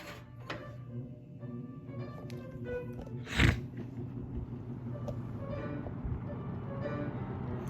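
Steady low whooshing hum of a 1969 GE W25 three-speed box fan running on low, with faint mechanical ticks and one brief thump partway through.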